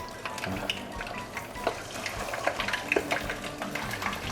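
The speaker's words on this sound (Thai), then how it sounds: "อันนี้ผมก็จะทอดทีละสองตัวนะครับทอดไปเรื่อยๆนะครับ" Two fish frying together in moderately hot oil, a close continuous sizzle with scattered pops and light clinks, no voices.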